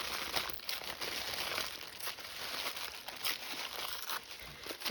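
Paper being torn and crinkled by hand for junk journal layering, a steady close run of tearing and rustling that continues through the whole stretch with no talk.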